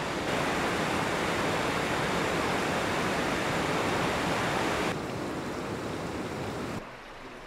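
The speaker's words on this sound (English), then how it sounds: "Lacey's Paradise is an oasis with a waterfall that springs from the canyon wall." A waterfall springing from a canyon wall in the Grand Canyon roars as loud, steady broadband rushing water that drops slightly in level toward the end.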